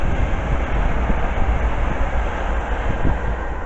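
Metropolitan line train passing through Northwick Park station, a loud, continuous rumbling roar of rail noise with no break, heard up close.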